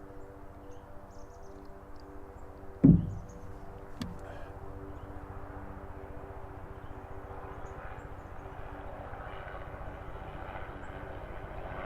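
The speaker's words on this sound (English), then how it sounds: "That'll be my first helicopter." A low, steady rotor and engine drone of a helicopter passing right over a house, continuous and moderately loud, with a sharp thump early on.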